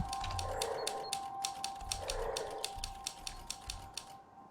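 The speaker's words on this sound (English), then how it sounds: "Dad's typing away." Typewriter keys clack in quick, uneven bursts in The Novelist video game, light mechanical taps over a steady low hum and soft background tones.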